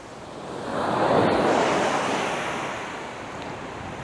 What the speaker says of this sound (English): And you see some of these waves are absolutely massive, but then when they break, the energy just dissipates so fast.